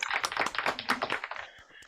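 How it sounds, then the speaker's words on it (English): A short burst of audience applause at a live morning show, scattered hand claps close and fairly quiet, fading out after about a second and a half. "Big round of applause"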